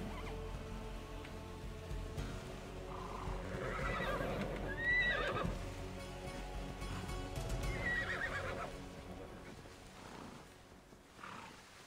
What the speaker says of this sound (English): I see some real horses.